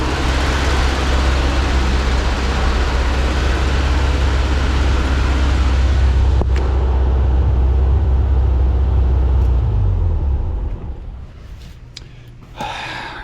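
A 1979 VW Super Beetle with fuel injection runs rough because its throttle blades are hanging. A loud, steady, low engine rumble holds for about ten seconds, then drops to a quieter idle.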